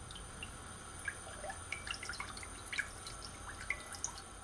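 Jerk sauce liquid poured into a pan on a low stove, a faint trickle with scattered small drips and splashes over a quiet background hiss, with no voices.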